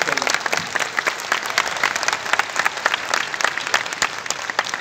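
Loud, dense audience applause fills a hall at the CIMAGE Inspiro 2021 event at Gyan Bhawan, Patna, as the education minister is honoured on stage. Many hands clap steadily for about five seconds, with faint voices mixed in.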